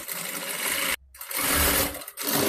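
Domestic sewing machine stitching a designer blouse at a tailoring boutique, running in loud continuous bursts with a brief pause near one second and a short dip after two seconds.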